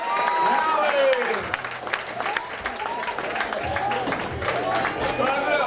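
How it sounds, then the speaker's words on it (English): Banquet audience applauding a Rising Star Award winner at a 2016 Mid Atlantic event, steady crowd clapping throughout with voices talking over it and occasional cheers rising above the room. "Let's clap it up."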